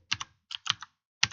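Keys clatter on a computer keyboard, close and crisp, in short irregular bursts of two or three taps with brief pauses between, and no voice over them.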